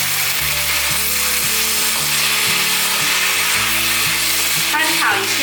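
Black fungus being stir-fried in a wok with star anise and cinnamon bark after water is added, a steady loud sizzle and bubbling with scraping stirs throughout, and a low mechanical hum beneath.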